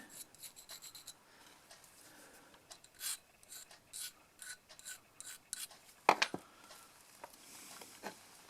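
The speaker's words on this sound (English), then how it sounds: "Now just a slight deburring, and these should go on okay." A hand file rasps back and forth over a drain cock to deburr it, giving a run of short, fairly quiet scraping strokes with a sharper metallic scrape near the end.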